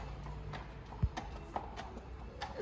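Horses walking toward a wash bay after a ten-mile hack, with quiet, sparse hoof clops at an irregular pace. The steps are faint and distant, with one heavier knock among them.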